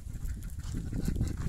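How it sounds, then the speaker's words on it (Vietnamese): A large flock of ducks at a remote countryside duck farm, a murmuring mass of low quacks and rustling that grows a little denser toward the end, steady and moderately faint. "Quá trời vịt luôn."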